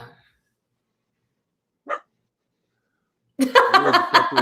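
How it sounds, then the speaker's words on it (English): A pet dog gives a single short bark in the background of a quiet indoor room, followed after a pause by a burst of nearby talking or laughter. "we got the doggy in the background causing trouble"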